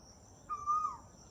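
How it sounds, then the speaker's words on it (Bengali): A single Asian koel in a mango tree gives one short, clear tonal call at moderate distance over a constant thin insect whine. "আমাদের আম গাছে বসে বসে একটা কোকিল ডাকতেছে অনেকক্ষণ ধরে"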